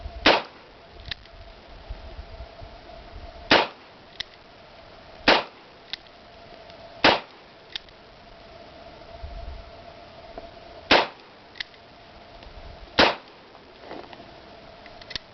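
A Ruger GP100 Match Champion 10mm revolver fires about six sharp gunshots at an outdoor range, spaced irregularly a second or two apart, each a loud crack with a brief tail, with fainter distant shots between them.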